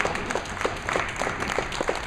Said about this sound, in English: Well-deserved round of applause from a lot of people that stuck around for this match